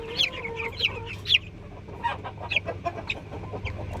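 Two-week-old broiler chickens cluck in short, repeated bursts close by, with a low steady hum running underneath.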